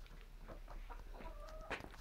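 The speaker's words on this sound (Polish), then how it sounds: "Tutaj mam taką tłuszczutką kurę" A plump hen clucks softly nearby in a short burst of low, choppy calls, a slightly higher clucking note rising near the end over faint background noise.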